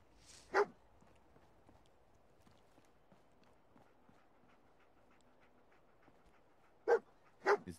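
Dog in Fallout 4 giving a sharp bark, then quiet panting and footsteps, then two more close barks near the end.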